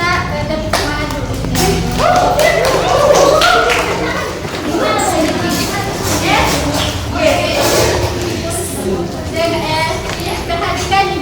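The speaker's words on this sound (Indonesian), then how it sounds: "Kita tepuk semangat dulu." A classroom of children performs the rhythmic tepuk semangat spirit clap during a micro-teaching lesson, with steady patterned claps and taps sounding close and loud under ongoing children's and teacher's voices.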